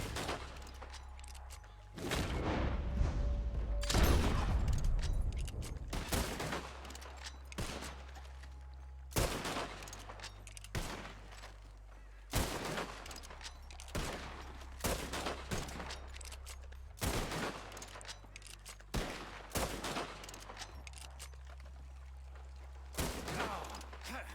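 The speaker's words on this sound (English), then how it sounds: "As soon as you see them, start shooting." Gunfire rings out in Red Dead Redemption 2 as sharp, loud shots crack in irregular bursts over about twenty seconds, some isolated and some in quick clusters, with a heavy volley early on.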